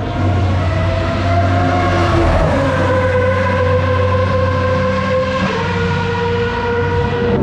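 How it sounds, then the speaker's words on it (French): Historic V10 Formula 1 cars race at Circuit Paul Ricard, their loud, high-pitched engine wail running continuously and sweeping up and down in pitch as the cars pass, with no talking. "Et il y a toujours les anciennes F1 qui tournent avec les V10."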